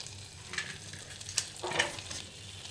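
Cumin seeds frying in oil in a pan, a soft steady sizzle with a few brief crackling bursts, close and alone with no talk.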